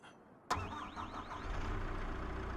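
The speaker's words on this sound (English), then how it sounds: "let's jump in the little skid steer" A small skid steer loader engine in Farming Simulator 25 cranks and catches with a sudden start, then settles into a steady mid-pitched idle with a rising whine fading over it.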